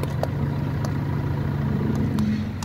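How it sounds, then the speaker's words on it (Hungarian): A Fiat Linea with a 1.3 Multijet diesel engine idling, a steady, even low chug heard up close and alone. "Jár benne a motor"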